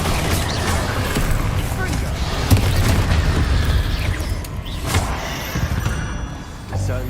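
An Incendio fire spell is cast in Hogwarts Legacy, producing a continuous roaring, booming burst of flame and effects with rumbling low end throughout, loud and dense, with game sounds layered over it.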